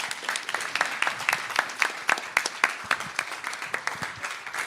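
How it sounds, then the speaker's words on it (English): Applause from the audience at a Volt Belgium general assembly for the outgoing board, steady mid-distance clapping from a modest crowd with no voices over it. "one more applause for the old board, please"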